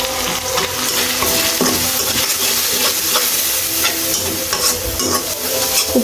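Spices (turmeric, cumin, coriander and chili powder) being stirred into a frying pan for chola bhuna, a utensil scraping and clinking steadily over a constant close sizzle.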